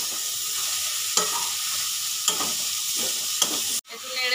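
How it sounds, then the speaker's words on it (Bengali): A utensil stirs food frying in a pan, with a steady loud sizzle and soft scraping strokes roughly every second, then a brief clatter near the end. "এক মিনিট নেড়ে নেব"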